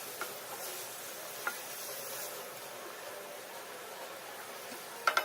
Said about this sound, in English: we're going to fry the mince for at least 1 whole minute